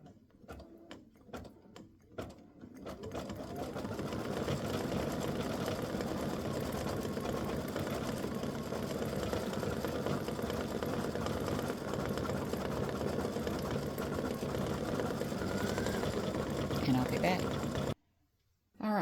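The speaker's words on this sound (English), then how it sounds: "the berries have finished stitching" An embroidery machine stitches berries onto a ribbed Christmas stocking, its steady mechanical whir running continuously for most of the stretch after a few opening clicks, then stopping abruptly near the end.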